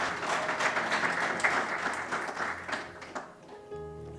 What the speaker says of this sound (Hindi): राजा लिए जरा ताली बजा दो शायद।